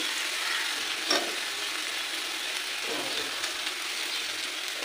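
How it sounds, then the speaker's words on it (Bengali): Cauliflower florets with salt and turmeric frying in a pan, a steady loud sizzle and hiss throughout with a couple of brief scraping stirs. "একটু লবণ হলুদ দিয়ে ভাজা ভাজা নাড়াচাড়া করে ফুলগুলো দিয়ে দেবো"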